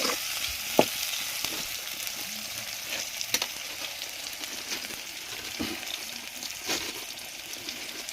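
Onions with salt fry in a pan, giving a steady hissing sizzle broken by occasional soft stirring clicks and scrapes, fairly quiet and close, with no talking.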